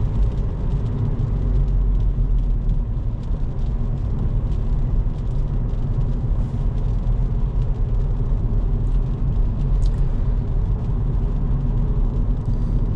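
A 2010 Kia Forte Koup SX with an automatic transmission cruises along with a steady, dense engine and road rumble heard from inside the cabin, continuous and fairly loud with no talk.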